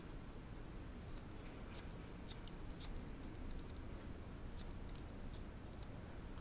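Scissors snipping long hair during a home layered haircut, a series of small crisp clicks in quick clusters, close and quiet over a soft background hiss.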